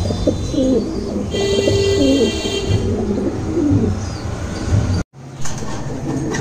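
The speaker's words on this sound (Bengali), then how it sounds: "এখানে একজোড়া সবজি কালার বিট কবুতর" Pigeons coo at a pigeon farm, repeated low throaty cooing from several birds close by, continuous over a background hum, with a brief dropout near the end.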